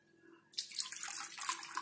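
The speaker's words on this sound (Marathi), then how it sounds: "आता आपल्याला सावकाश हे पाणी याच्यामध्ये ओतून घ्यायचंय." Water is poured slowly into wheat flour dough in a kitchen, a soft splashing trickle that starts abruptly and continues steadily at close range, faint and alone.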